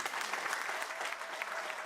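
A church congregation claps steadily together, a dense continuous round of applause with a few voices faintly mixed in.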